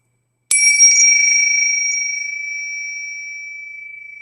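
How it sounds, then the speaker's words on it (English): Tibetan bells are struck once, producing a crisp metallic attack with a pure, sustained ringing tone that lingers and gradually decays in a silent space. "I also use what's called the Tibetan bells"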